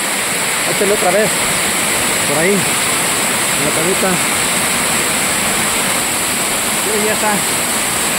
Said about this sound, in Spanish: en la cascada, en la caída de agua.